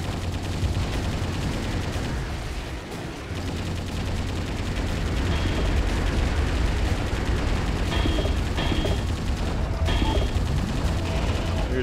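Explosions and gunfire in Metal Wolf Chaos, a continuous, loud wall of rapid shots and blasts that barely lets up, with a brief dip partway through before the barrage resumes at full intensity.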